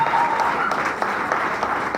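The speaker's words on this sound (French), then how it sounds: "J'ai vu l'honorable Ngonga, que je vous demande d'applaudir très fort également" Audience applause honoring the Honorable Ngonga, a sitting deputy, at a political rally, a dense steady wash of clapping that holds at even loudness throughout, with a few sharper claps standing out.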